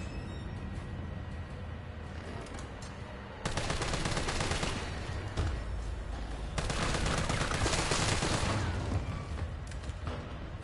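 Sustained machine gun fire in Resident Evil 3 Remake, loud continuous bursts of rapid shots close up, with a slightly quieter stretch between two heavy volleys.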